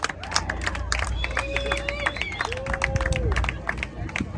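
At a WWII weekend air show at an air museum in Reading, PA, a crowd claps and cheers under a spoken voice, with scattered sharp claps, whistles and babble all through.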